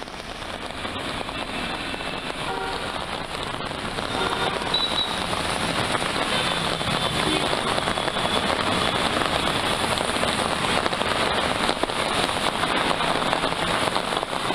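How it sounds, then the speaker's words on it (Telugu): Heavy rain pours down in Hyderabad as a dense, continuous patter that stays constant and close throughout, with no voices. "హైదరాబాద్ లో మరోసారి భారీ వర్షం కురుస్తోంది"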